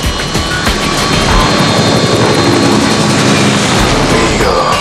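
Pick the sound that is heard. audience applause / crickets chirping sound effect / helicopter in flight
helicopter in flight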